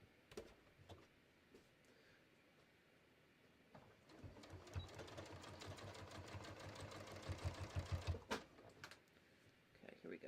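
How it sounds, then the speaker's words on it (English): A home sewing machine stitches a shirt collar with a collar stand, its rapid motor whir rising and falling in bursts near the mic, with brief pauses and talk at the start. "let me just finish sewing this"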